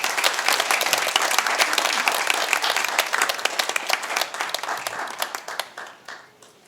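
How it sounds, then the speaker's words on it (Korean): A church congregation at a Sunday joint worship service claps loudly to welcome a missionary, a crisp, dense burst of hands that stays strong for several seconds, then thins into scattered claps and fades out. "오실 때 큰 박수로 환영 부탁드립니다."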